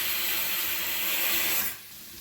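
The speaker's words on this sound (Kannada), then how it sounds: "ಸಾರಿ ಕುಕ್ಕರ್ ಸೌಂಡ್ ಬಂತು." A pressure cooker whistle lets out a loud, continuous steam hiss that holds steady and then cuts off sharply near the end, leaving a quieter hiss behind.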